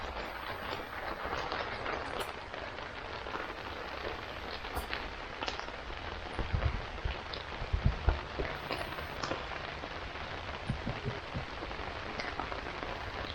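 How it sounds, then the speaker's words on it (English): Rain falling on a greenhouse, a soft continuous hiss of drops pattering steadily throughout, with a few faint low thumps partway through and no talking. "Hear the rain."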